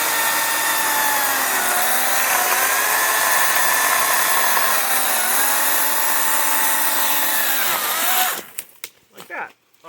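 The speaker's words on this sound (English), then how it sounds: "It kind of just helps the chainsaw get a better cut." A Kobalt 14-inch electric chainsaw cuts through a tree log outdoors, its high steady whine running loud and continuous with slight pitch dips as the chain bites, then cutting off abruptly near the end, leaving brief clatter.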